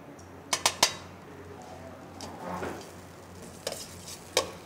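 Butter goes into a pan for a millet mushroom soup: a few sharp clinks of utensil on pan, then a soft, brief sizzle swelling in the middle, and more scattered taps, all fairly quiet with no talking.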